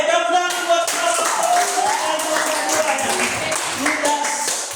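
Students in a school classroom clapping, quick close claps mixed with overlapping voices and chatter throughout.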